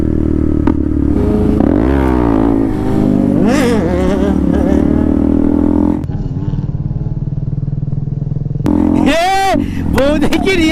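A motorcycle revs hard through a wheelie, its engine whining up and down in loud, close pitch sweeps that drop away briefly and then surge again. Shouting voices are heard over the engine.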